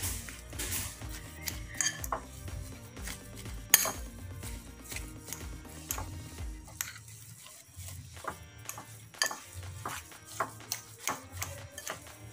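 A spoon scrapes and clinks against a bowl while a perkedel mixture with spring onion and fried shallots is stirred, in a loose, uneven rhythm of close, light taps.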